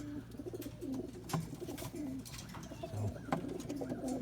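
Pigeons coo softly in a loft, several overlapping low throaty calls repeating under a faint background hum, quiet and close.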